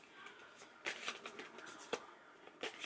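Tarot cards are shuffled in quick riffling bursts with soft slaps, close and quiet, with no talking.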